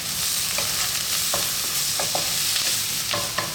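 Garlic ginger paste with chili powder, chili flakes and black pepper frying steadily in a pan, a constant loud sizzle broken by scattered scraping stirs of a utensil, no voices.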